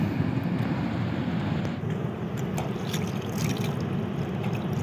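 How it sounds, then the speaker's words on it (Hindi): Cold water of the Sindh (Indus) river at Taunsa Barrage, a steady broadband wash and rushing flow heard close up, continuous and fairly loud with no talking. "ये दरिया का पानी है ठंडा, दरिया सिंध का"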